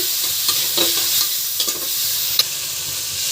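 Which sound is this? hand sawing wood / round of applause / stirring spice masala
stirring spice masala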